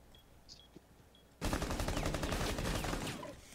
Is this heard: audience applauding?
no